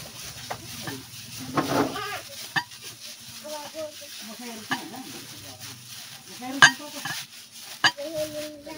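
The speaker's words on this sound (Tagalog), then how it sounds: "I-mix and combine together." Nilupak dough being mixed and combined with grated coconut by hand or spoon, giving soft irregular stirring, squishing and occasional clinks against a bowl, quiet and close, with brief faint voice sounds in places.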